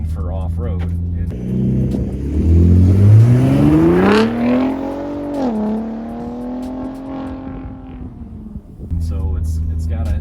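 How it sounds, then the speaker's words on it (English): A 2023 Ford F-150 Raptor with its exhaust in Baja mode revs loudly close up, climbing in pitch, holding, then easing off. Idle rumble can be heard before and after the rev. "The exhaust is in BAJA mode right now"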